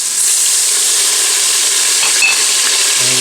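Two tablespoons of minced garlic sauté in an Instant Pot for chicken noodle soup, giving a loud, continuous hiss and sizzle close up, with a faint scrape of stirring near the end.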